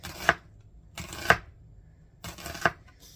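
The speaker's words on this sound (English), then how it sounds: "So we want our onions sliced really thin." A knife slices onions thinly on a cutting board in three distinct, crisp strokes spaced about a second apart. The cuts are close and fairly quiet, with no talking.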